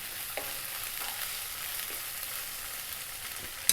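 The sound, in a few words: garlic ginger paste frying in a pan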